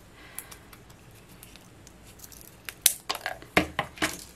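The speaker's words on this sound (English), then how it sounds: "I'm going to cut off the back of it though." Scissors snipping the back off a small decorative craft bow, a few sharp close clicks and cuts clustered together after a quiet start.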